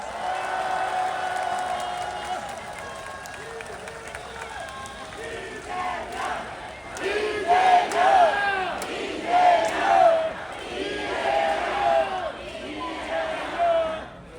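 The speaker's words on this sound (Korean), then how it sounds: "옆에 계신 동지들에게 박수 한번 보내주세요" Crowd at an outdoor election campaign speech outside Gyeyang Station applauding and shouting, with an amplified voice calling out over it; the cheering swells in waves midway and stays loud to the end.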